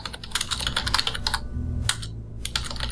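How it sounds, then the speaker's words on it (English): Fast, uneven clatter of keys on a computer keyboard, close and fairly loud, with a short pause partway through before the typing picks up again. No one speaks. "typing on my keyboard isn't so loud anymore"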